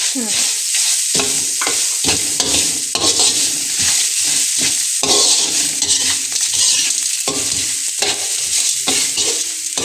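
Coconut pieces go into a pan of pineapple sambar, setting off a loud, continuous sizzle and frying hiss with repeated stirring scrapes throughout, steady and close with no talking.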